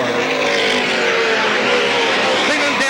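Stock race cars at Salem Speedway in the 1987 McDonald's 150 feature roar past in a loud, continuous engine wail whose pitch sweeps and shifts as the field runs the track.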